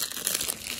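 A crinkly pet toy gives a short, close burst of dry crumpling rustle, brief and fairly loud, with no talk over it.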